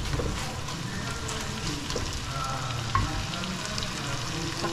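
Corned beef and bitter gourd fry together in a pan while being mixed, giving a constant crackling sizzle with soft stirring scrapes and a single sharper clink partway through.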